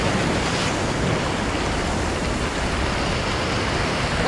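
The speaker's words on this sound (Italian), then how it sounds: "questa schiuma bianca che batte negli scogli è il posto delle occhiate" Sea waves break in white foam against rocks on a fishing shore, a steady, loud, continuous wash of surf with no pauses and no voices.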